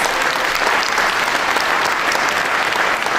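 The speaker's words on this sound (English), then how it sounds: "another round of applause for all of our grantees" An audience at a community development grant announcement applauds the grantees, a steady, loud, even stretch of clapping filling the whole moment without any break.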